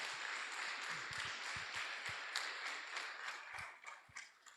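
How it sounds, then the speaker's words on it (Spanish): A church congregation applauds the Lord during a service, a dense wash of many hands clapping, steady and moderately distant, tapering near the end with a few sharper individual claps. "Dele un fuerte aplauso al Señor"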